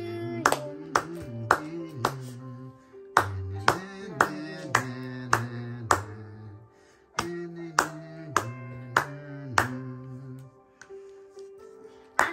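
Hands clap in a rhythmic beat at a first birthday celebration, close and crisp, keeping time alongside sung melody with pauses between phrases.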